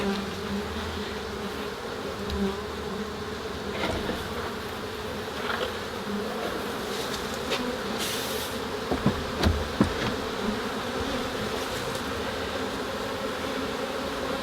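Honey bees hum in a dense, steady swarm around an open backyard hive during an inspection, close and continuous, with a few soft knocks and clicks from handling the frames.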